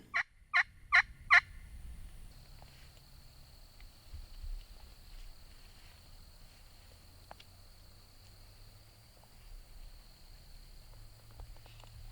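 Four loud, rapid gobbles from a wild turkey longbeard ring out near the start, followed by a long stretch of quiet outdoor ambience with faint insects.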